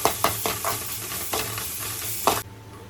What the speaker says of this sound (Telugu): అల్లం వెల్లుల్లి పేస్ట్ వేసుకొని మనం దీన్ని ఫ్రై చేసుకోవాలి.